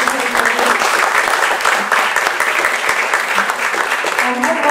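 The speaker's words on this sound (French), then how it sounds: "on peut applaudir Amandine qui est là" An audience at a climate youth seminar gives loud, continuous applause for several seconds, with scattered voices and murmur mixed beneath the clapping.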